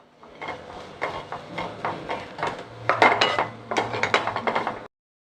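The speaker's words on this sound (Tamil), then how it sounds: "இப்போது எடுத்து வச்சிருக்கிற தேங்காவை இதில் ஃப்ரை பண்ணுவோம்." Grated coconut being fried and stirred in a pan for wheat puttu, with close, uneven clinks and scrapes of a utensil against the metal pan, coming in bursts that grow busier before stopping abruptly, no voices.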